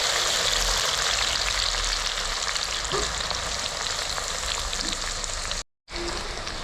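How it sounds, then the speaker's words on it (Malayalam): Sliced onions for a Thalasseri mutton dum biryani fry in hot oil in an iron pan, giving a dense, steady sizzle that is close and continuous, with a brief gap near the end. "എണ്ണ ചൂടായിട്ടുണ്ട്, നമുക്ക് സവാള ഇട്ട് കൊടുക്കാം."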